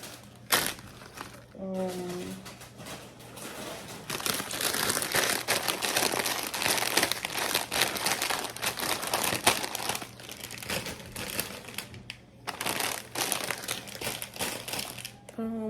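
Bags of Cheetos chips crinkle and rustle as they are grabbed and handled, with plastic crackling nearby almost continuously and a voice speaking briefly near the start.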